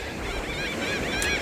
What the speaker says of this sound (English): just out here hanging with the seagulls